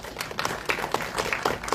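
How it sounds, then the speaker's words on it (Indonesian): Audience applause at an Indonesian film press event, a short, dense burst of clapping from a crowd of several people, fairly close and uneven in rhythm. "tepuk tangan dulu teman-teman."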